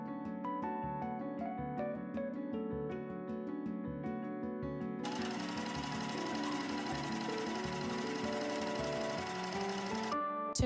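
A domestic sewing machine stitches fabric during a summer wardrobe upcycling project, running steadily and close throughout with a busy mechanical rhythm, alone with no talk.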